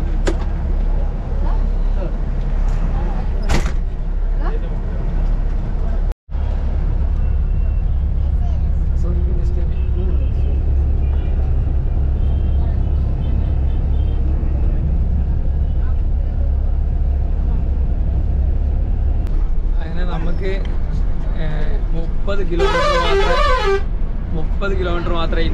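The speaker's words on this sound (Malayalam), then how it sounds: "ബസ് അങ്ങനെ മൂവ് ചെയ്യാൻ സ്റ്റാർട്ട് ചെയ്തു കേട്ടോ." Intercity bus on the India to Nepal route pulling away, its engine rumbling low and steady throughout with a brief honk near the start and a burst of horn toots toward the end, voices talking over the motor.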